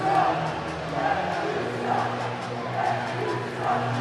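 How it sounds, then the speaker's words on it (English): An arena football crowd in Nashville chants at the referee during a Michigan Arsenal game, a distant rhythmic roar that swells at regular intervals. "Crowd doesn't know what they're chanting."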